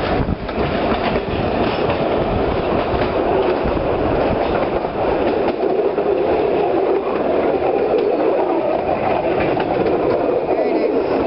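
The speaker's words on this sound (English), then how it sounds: "See the train going around the bend." A vintage Red Arrow train in Mallorca runs along the rails with a continuous loud rumble and rattle from inside the carriage, steady throughout with faint clacking from the wheels.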